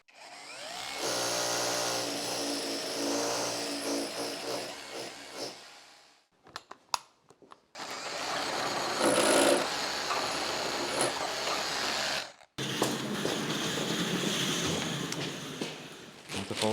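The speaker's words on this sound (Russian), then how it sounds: "Так что сейчас будем сверлить." Power drilling during kitchen electrical wiring work in a new house being built in a French village, in loud sustained bursts with a short quiet gap between them, nearby and with no talk over it.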